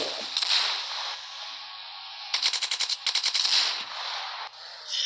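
Rapid automatic gunfire in the video game Roblox while aiming for headshots, a dense crackling stream of shots with a clearly pulsing burst in the middle, close and loud with no talking.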